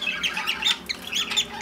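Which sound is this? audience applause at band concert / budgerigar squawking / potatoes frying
budgerigar squawking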